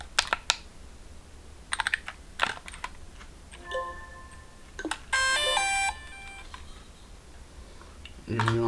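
A drone remote controller powering on emits a couple of short electronic beeps and a longer multi-tone chirp, mixed with clicks and handling taps on the device, fairly close, amid quiet background.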